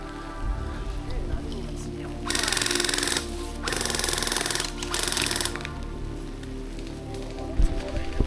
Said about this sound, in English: There's pouring rain, just downpouring at this point.